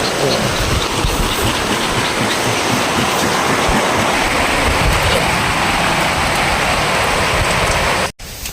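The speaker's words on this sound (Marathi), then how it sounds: "थोडा थोडा पाऊस चालू आहे" Steady rain hisses continuously and evenly throughout at a farm, with no talking, then a brief sharp click near the end.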